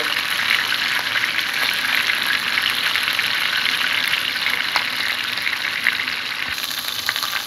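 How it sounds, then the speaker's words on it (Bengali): Tilapia fish pieces fry in hot oil in a pan, giving a close, loud and continuous hissing sizzle that stays even throughout, with no talking. "এইভাবে আমি মাছগুলোকে একদম লাল লাল করে ভেজে নেব।"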